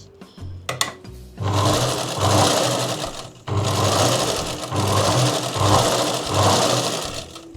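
A sewing machine stitching a blouse runs in two bursts of steady, rapid mechanical whirring, stopping briefly between them, after a few soft clicks and handling noises at the start.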